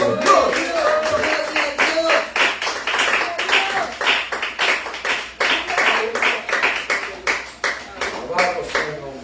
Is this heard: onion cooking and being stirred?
no